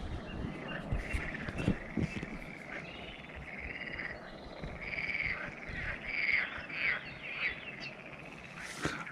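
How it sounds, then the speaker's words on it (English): A chorus of frogs croaks continuously nearby in the Netherlands, overlapping calls rising and falling in a dense outdoor din with no talking. "I'm assuming it's frogs."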